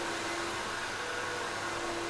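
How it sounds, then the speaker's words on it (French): An early Dyson vacuum cleaner runs steadily throughout, a constant close whirring drone with a high motor whine and no change in pitch or level. "T'as vu là, l'aspirateur, c'était le début du Dyson."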